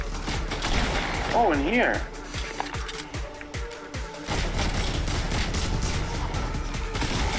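Fortnite gameplay with bursts of gunfire and weapon sounds, rapid shots and impacts layered over game effects and a sweeping tone, while a player briefly speaks.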